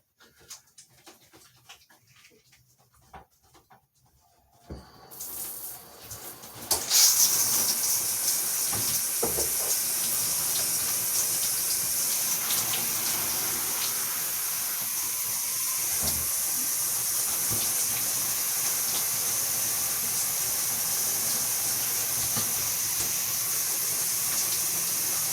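Shower water runs steadily with a bright, broad hiss that kicks in a few seconds after a quiet start, close and loud and continuing without a break.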